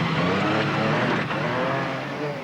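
An MG Metro 6R4 rally car is driven hard at the 1985 Austin Rover Rallysprint, its engine roaring loud and close throughout with brief tyre scrabble as it is flung about.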